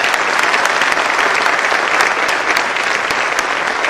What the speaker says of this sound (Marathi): मी तुम्हाला सगळ्यांना रिक्वेस्ट करेन की सरांसाठी मनापासून एक सगळे टाळ्या वाजवा.